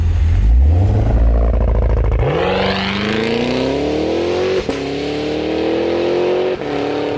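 A 2023 Cadillac Escalade-V pulls away, its engine revving up with a rising, loud roar that climbs steadily through the gears, close by with no talking.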